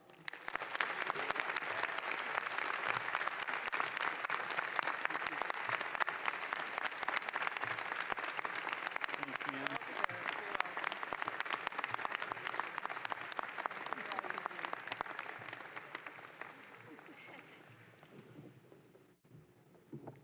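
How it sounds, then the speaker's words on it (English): Sustained applause fills a hall at a medical school graduation ceremony, a dense steady clapping from a large audience that holds for most of the stretch, then thins and fades toward the end. "Please join me in a round of applause for Dr. Toussaint."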